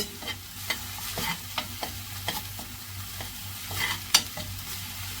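Ground onion paste sizzling in a pan with little oil for palak paneer, browning while a spoon scrapes and stirs it in a steady series of clear, close strokes over a soft continuous fry.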